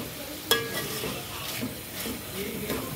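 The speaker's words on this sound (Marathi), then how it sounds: "या तेलातच वाफेवर चिकन हे शिजून जातं" Chicken marinated in yogurt cooks in a hot oil tempering for biryani, giving a soft, quiet sizzle with one sharp utensil clink near the start and light stirring after.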